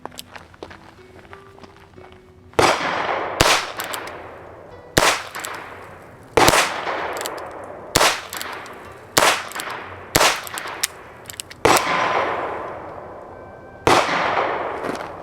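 A Heritage Barkeep revolver fires six rounds at a 5-yard target outdoors, each sharp, loud report ringing out at an even pace with short gaps and a decaying echo.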